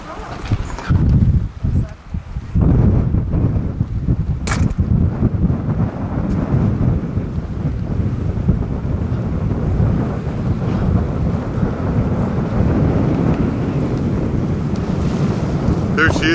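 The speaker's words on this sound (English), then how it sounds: "so you get to hear the wind here" Strong, steady wind buffets the microphone on a boat lying at anchor in the Sea of Cortez, a loud, constant roar with rumbling gusts and faint water sounds beneath, and a voice briefly speaks early on.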